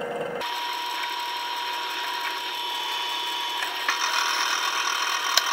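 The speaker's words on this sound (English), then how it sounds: "And I'm just gonna drill a quarter inch hole in it." Power drill boring a quarter inch hole into an aluminum dirt bike part clamped in a vise, a steady high whining grind with a faint mechanical rattle, close and continuous with no voices.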